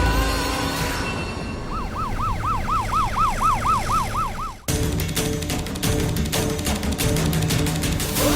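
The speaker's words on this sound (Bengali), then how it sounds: "অ্যাম্বুলেন্স!" An ambulance siren wails in rapid rising and falling cycles, close and loud, then cuts off abruptly into traffic and street noise.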